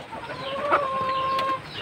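A brooding backyard hen sitting on eggs gives one drawn-out, nasal clucking call up close, lasting about a second over faint background noise.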